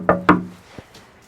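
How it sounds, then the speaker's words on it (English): Two firm knocks on a wooden door, close and sharp, followed a moment later by a fainter single tap, with no voices. "A Knock on the Door."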